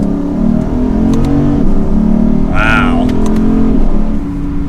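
A 2022 Lexus IS 500 with its V8 pulls hard in second gear, a loud, steady engine drone rising in pitch close up, with a brief exclamation from a person in the cabin partway through.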